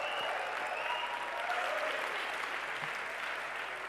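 An audience applauds steadily as a guest comes on stage at the South Summit 2015 conference, a dense, even wash of many hands clapping at moderate distance with no talking.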